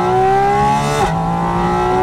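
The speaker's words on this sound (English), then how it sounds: "The responses from this engine are savage. I mean, I'm in the power band now, second gear." A Porsche 718 Spyder RS engine with a 7-speed PDK gearbox revs hard in second gear, a loud, close, rising mechanical wail that dips briefly at the shift and then climbs again.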